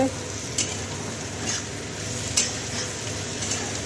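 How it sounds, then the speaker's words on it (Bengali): Prawns and a big batch of chopped vegetables fry in a pan with a steady close sizzle. Periodic scraping stirs of a spatula against the metal break through the sizzle. "সবজি দিয়ে দেখো চিংড়ি মাছ হবে, রান্না চলছে।"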